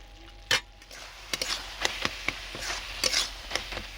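A spatula stirs bottle gourd curry with small shrimp in a pan, giving a series of scraping and clinking strokes at an irregular rhythm over a soft sizzle, close and moderately loud.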